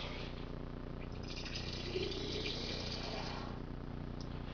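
Water runs steadily from the tap of a rainwater cistern in a crawl space, a constant close hiss with no breaks.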